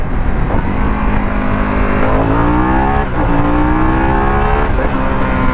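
A 2021 Harley-Davidson Pan America motorcycle accelerating hard through the gears, its engine note climbing in rising sweeps with a brief dip at each shift, loud and close under wind rush.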